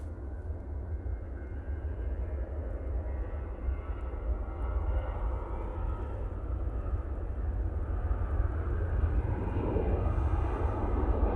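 A Tui airliner departs Manchester Airport for Turin, its jet engines a steady deep roar that swells gradually as it climbs, heard alone at a distance.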